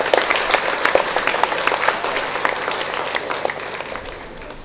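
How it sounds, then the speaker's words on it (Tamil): A church congregation claps during a Tamil Catholic Mass installing a new parish priest at Our Lady of Snows church, K. Udaiyapatti: loud, dense applause of many hands that gradually fades. "இப்பொழுது நாம் எல்லோரும் கைதட்டுவோம்"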